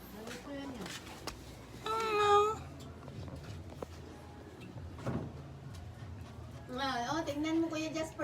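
A cat gives two drawn-out meows, one early and one near the end, fairly close, with quiet household clatter and faint talk between them.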